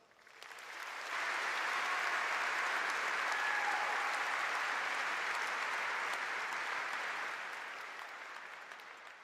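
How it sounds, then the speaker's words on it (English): A large high school graduation crowd applauds platform guests and ceremony coordinators, the clapping swelling in after a quiet second, holding as a broad steady roar, then easing slightly toward the end; somewhat distant. "Please join me in a round of applause to recognize our platform guests and graduation ceremony"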